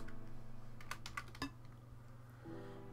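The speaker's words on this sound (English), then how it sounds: "Sorry if you can hear my keyboard." Computer keyboard typing at a desk during a game tutorial session, a quick cluster of key clicks around the middle over a steady low hum, with a tone shift near the end.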